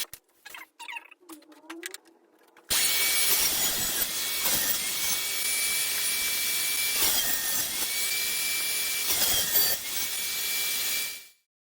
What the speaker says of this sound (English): I still need to use the table saw to make uniform cuts to length.